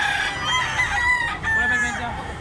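A kanawayon gamecock crows loudly and close, its drawn-out harmonic call filling the short clip, with cockfight-venue crowd noise underneath.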